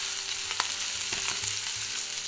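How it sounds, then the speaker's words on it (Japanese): Sausages frying in oil in a hot frying pan, a continuous close sizzle with a few soft pops and light stirring knocks, no talking. "フライパンを熱して油を入れてソーセージを入れていきます。"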